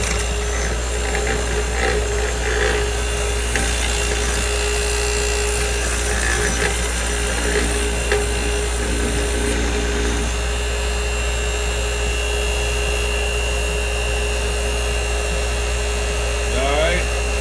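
A Bauer 6 in. bench grinder runs steadily, its broad hum and whine carrying throughout as a chisel is pressed against the wheel, with scraping and grinding bursts rising and falling in the first ten seconds.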